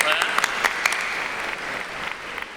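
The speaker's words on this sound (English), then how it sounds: "Clap, clap." Audience clapping at a high school graduation ceremony, a dense burst of many hands with sharp individual claps standing out, holding steady for a couple of seconds.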